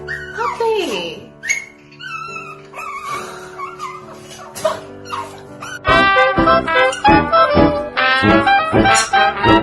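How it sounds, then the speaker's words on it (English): A puppy whimpers and yips in high, wavering whines, then breaks into a dense run of loud yelps and squeals up close, mixed with scattered household sounds. "Puppy."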